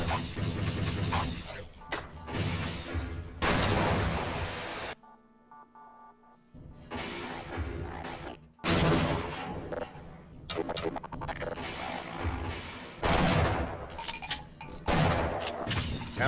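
Shock roach weapon firing in Half-Life: Opposing Force, a dense run of crackling, shattering energy bursts at close range that stops briefly midway and then resumes, with game effects layered throughout.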